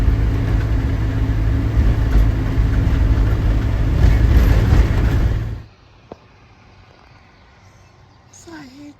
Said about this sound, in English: watching the tractor work the fields